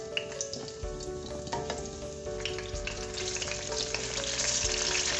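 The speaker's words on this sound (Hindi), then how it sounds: "हरी मिर्चों को 1 से 2 मिनट फ्राई करूँगी" Three green chilies fry in oil, sizzling and crackling steadily in a pan, with small pops and occasional stirring clatter, growing slightly louder toward the end.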